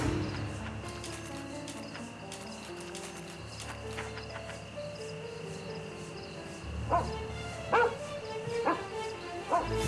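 Toby the dog in the video game The Testament of Sherlock Holmes gives a few sharp barks near the end, heard over steady game music and ambience.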